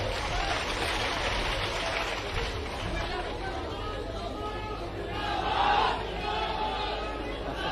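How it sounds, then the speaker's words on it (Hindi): Crowd at a public rally in Odisha clapping loudly from their seats, a broad sustained wash of applause and murmuring that swells briefly near the end, with no voices standing out. "सभी जोरदार तालियां बजाएं अपने अपने स्थान पर बैठकर।"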